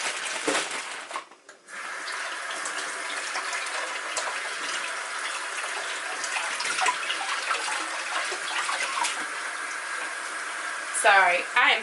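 Carrots are rinsed under a running tap, giving a steady, close stream of water that pauses briefly near the start, with a faint voice near the end.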